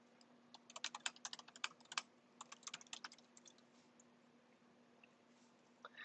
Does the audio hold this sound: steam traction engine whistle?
no